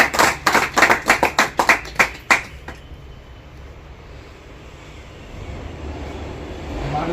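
An audience at an oath-taking ceremony claps in a short, loud burst of separate claps lasting about two seconds before it fades into quiet room noise.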